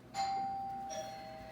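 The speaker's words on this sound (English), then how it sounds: "There goes my doorbell." A doorbell chimes once, heard from another room of a home during a circular knitting session, with two ringing tones that decay slowly and nothing else in the background.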